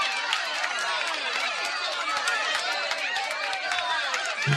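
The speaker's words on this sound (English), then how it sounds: "round of applause, ladies and gentlemen, for Lucid's Lair" A round of applause from a live audience: dense, continuous clapping mixed with crowd chatter, steady and fairly loud for its whole length.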